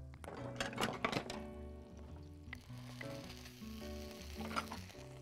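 Minced garlic sizzling in butter in a frying pan, a steady crackling fry with a few clinks of a utensil against the pan near the start and again partway through.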